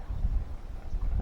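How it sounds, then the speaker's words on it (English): Steady wind buffets the microphone at a lake during bass fishing, a low, continuous rumble and gusting roar with no other clear sounds standing out. "This wind is really not my friend"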